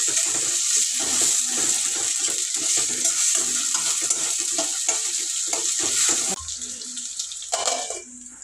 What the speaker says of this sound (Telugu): టమాటా పండ్లు వేసుకుందాం.